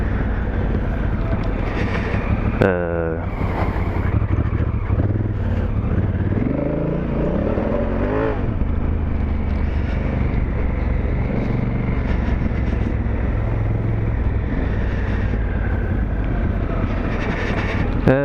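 A Honda Africa Twin motorcycle with a DCT automatic gearbox riding on the road, its engine droning steadily with audible gear changes and wind rush, while a rider talks over it throughout.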